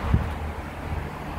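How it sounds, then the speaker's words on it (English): Gusty wind ahead of an incoming storm buffets the microphone outdoors by a garden, a low, steady rumble with a brief stronger gust near the start and no voices. "Wind's picking up a bit."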